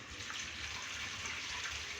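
Running water pours over flattened rice (poha) during a second rinse, a short, even gushing wash heard close up and alone.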